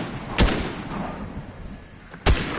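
Two sharp gunshots in a video game trios match, one near the start and one near the end, standing out over steady background game noise.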